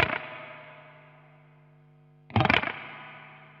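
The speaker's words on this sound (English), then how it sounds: "The reverb is set to a spring and it sounds like this." A guitar chord rings out through a spring reverb pedal and decays slowly with a wet, springy tail, then a second brief strum crashes in with a boingy splash.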